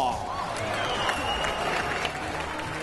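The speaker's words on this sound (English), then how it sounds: "a big round of applause to Simeon and Richard" An audience at a cage fight breaks into steady applause after a unanimous draw is announced, a dense wash of clapping with a voice talking over it.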